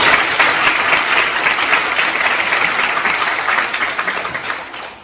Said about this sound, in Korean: 큰 박수로 맞이해 주시기